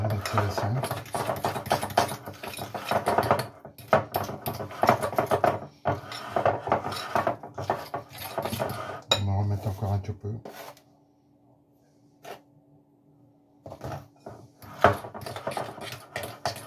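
Spoons clink and scrape while scooping propolis beside a beehive, the clatter sounding close and busy under steady talking, then breaking off into near silence before a few last taps.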